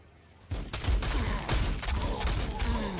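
Rapid autocannon fire in Warhammer 40,000: Sanctus Reach, a dense, loud barrage of overlapping booming shots that bursts in suddenly after a quiet start and keeps rolling without a break.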